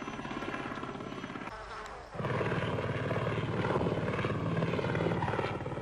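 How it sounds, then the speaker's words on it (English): Military helicopters in the Rhodesian bush war of 1977 returning to collect soldiers, steady rotor chop and engine drone that briefly dips and then swells louder and closer. "the choppers return to pick up the soldiers"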